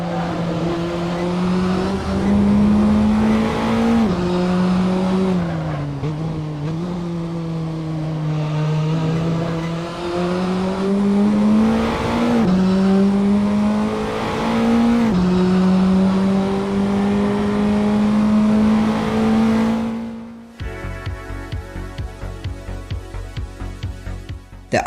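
Radical RXC Turbo GT3 race car in the Assetto Corsa racing game, its engine droning loud and near with rising and falling revs through gear changes, then an abrupt shift to a harsher, buzzy tone near the end.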